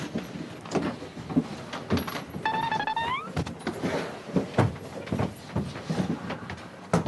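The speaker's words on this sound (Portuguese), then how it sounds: "Segura a porta, por favor, pra gente." An elevator door slides along its track amid busy, clattering movement and a brief electronic chime tone, with loud irregular knocks and shuffles nearby.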